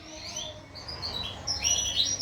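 Breeding cage birds, including a brown pastel pair, chirp and tweet in a continuous, busy chorus of high calls close by, with no talking.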